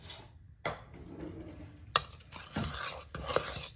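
Mini chocolate chips stirred into no-bake mint cookie dough, a few soft scraping strokes and light clinks of a spoon against a bowl, close and quiet with short pauses between.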